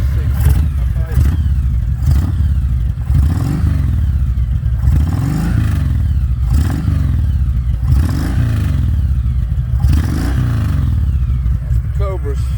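A Kawasaki Voyager motorcycle with Cobra exhausts and a big air kit rumbles nearby, its engine rising and falling through several revving surges with a mechanical clatter. A voice speaks over it at times.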